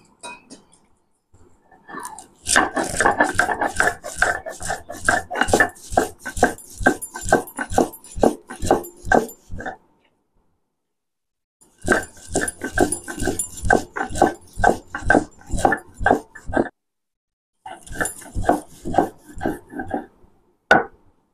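Mustard seeds ground into a paste on a grinding stone, heard as loud, close rhythmic scraping strokes in fast repeated bursts, separated by short pauses.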